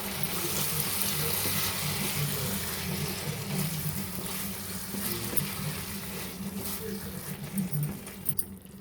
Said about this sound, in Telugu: కొంచెం వేడి నీళ్ళు అండి, నేను హాట్ వాటర్ వేసుకున్నా